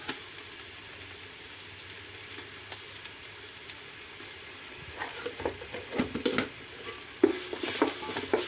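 Onions fry in a pan with ginger garlic paste for beef biryani. The pan stays fairly quiet at first, then scraping stirs and soft sizzling build toward the end.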